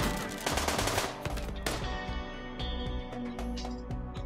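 Rapid shotgun blasts from the video game RimWorld crack in a dense, loud volley that thins into scattered shots, with no voices.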